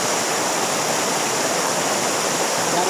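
Steady, loud rush of a clear river flowing through virgin Kalimantan forest, continuous broadband water noise with no pauses or voices.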